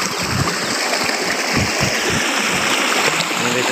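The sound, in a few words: water flowing down a stream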